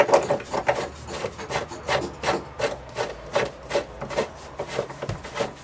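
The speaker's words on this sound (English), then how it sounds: "So here Mark's just tightening the back nut on from behind." Back nut of a Tallon receiver being tightened from behind, a close, rhythmic rasping of repeated ratchet-like strokes with a faint tonal squeak, no speech.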